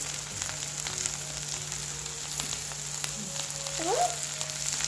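Onions frying in a pan for a shakshuka, a soft steady sizzle running quietly throughout, with a brief faint scrape of a utensil near the end.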